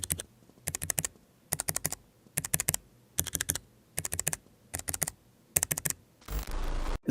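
Typing on a Keychron K3 v2 low-profile wireless optical keyboard with stiff, silent linear switches: even bursts of keystrokes repeating in a regular rhythm, close and clear, ending with a short rush of noise.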